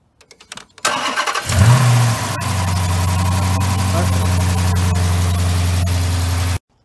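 A Dodge Charger 5.7L V8 with freshly changed spark plugs cranks and fires, then settles into a loud, steady low idle with a constant rumble up close.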